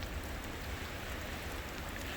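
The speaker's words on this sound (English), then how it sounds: "And it is raining" Steady rain patters on trees and a small teardrop camper parked beneath them on the Oregon coast during a windy winter storm, a close, even hiss with no voices.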